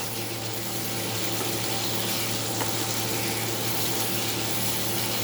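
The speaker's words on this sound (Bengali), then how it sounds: "এবার আরেকটু মশলাটা নাড়িয়ে চাড়িয়ে নিই, নাহলে মশলাটা লেগে যাচ্ছে" Spices fry in a pan on a home stove while being stirred, giving a loud, steady hiss and crackle that fills the whole stretch without pause, with no voices over it.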